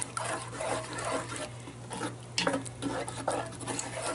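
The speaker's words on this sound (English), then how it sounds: "Let's go ahead and stir that all together." Turkey tetrazzini is stirred in a Dutch oven, a thick wet scraping and squelching with occasional utensil knocks against the pot, close by and fairly quiet.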